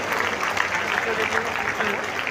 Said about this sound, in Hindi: जोरदार तालियां बजाकर आप उनका अभिनंदन करें